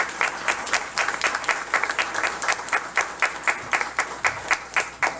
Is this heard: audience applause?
yes